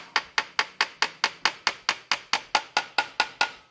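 A gear being seated onto dowels during PTO pump seal replacement on a 60 is tapped in with a steady series of about fifteen light, evenly spaced, crisp metallic knocks, close and clear with no talk.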